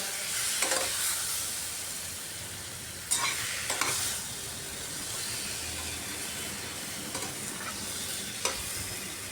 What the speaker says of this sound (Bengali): এবার একটু সময় কষিয়ে নিচ্ছি আলু আর স্কোয়াশ